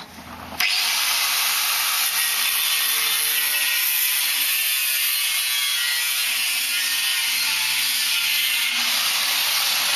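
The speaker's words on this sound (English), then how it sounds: "We're now recording the slicing with the angle grinder." An angle grinder cuts metal, starting after a brief pause with a loud, steady high-pitched whine and harsh grinding that runs unbroken to the end.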